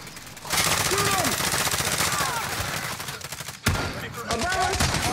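Rapid automatic gunfire rattles in a video game firefight, bursts of shots running nearly nonstop with a short break, while players shout over the shooting.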